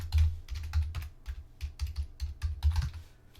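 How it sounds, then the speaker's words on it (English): Rapid clattering keystrokes on a computer keyboard, close and fairly loud, in irregular bursts of clicks and thumps with no talking. "Forgive the typing sounds for just a moment."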